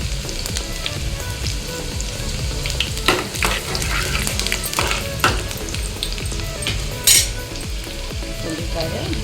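Onions frying in oil in a pan for cashew chicken gravy give a dense, continuous close sizzle, with occasional louder scrapes and knocks of a stirring spoon and no talking.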